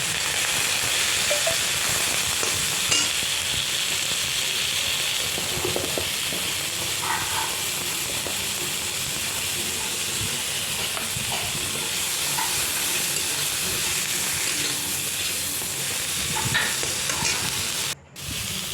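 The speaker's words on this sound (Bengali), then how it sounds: "হলুদ দিয়ে বেগুনটা আমি ভেজে নিচ্ছি" Eggplant fries in hot oil with turmeric and salt, a loud, steady sizzle and occasional stirring scrapes, close up and uninterrupted, ending with a brief pause.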